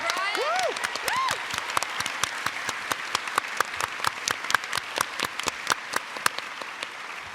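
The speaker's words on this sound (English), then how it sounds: "Can we get a round of applause for Brian?" Convention audience at a live tabletop roleplaying game show applauds a cast member, a moderate wash of clapping with sharper individual claps standing out, while a voice briefly talks over the start.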